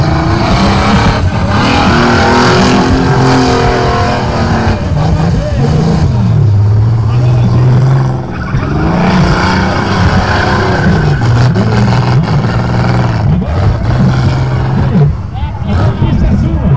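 A car at a racetrack event revving hard, engine pitch repeatedly climbing and dropping in loud bursts, close by, with a crowd's chatter and shouting mixed underneath.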